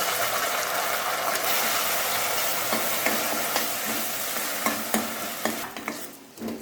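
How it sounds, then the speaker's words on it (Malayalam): A spoon stirs ground coconut paste into frying onions in a pan. A steady close sizzle runs under repeated scraping, clicking strokes that grow more distinct toward the end. "അപ്പം നമുക്ക് നന്നായിട്ടൊന്ന് ഇളക്കി കൊടുക്കുക."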